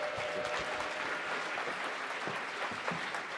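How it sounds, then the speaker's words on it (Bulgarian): Conference audience at a QA lightning-talks event applauds after a talk, dense, continuous clapping at an even loudness throughout. "Аплодисменти за Милен Страхински."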